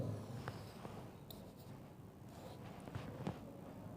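Chalk or marker scratches across a board during a physics lecture on oscillation frequency, short faint strokes and taps in a quiet room.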